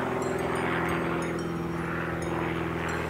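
A propeller airplane drones steadily overhead, a loud continuous engine hum with stable tonal layers that holds throughout with no talking.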